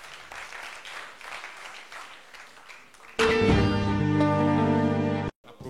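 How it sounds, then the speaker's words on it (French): An audience applauds contestants at a Guinean youth quiz quarter-final, a moderate crowd clapping that is suddenly overtaken by a loud burst of sustained music before cutting off. "On les applaudit s'il vous plaît."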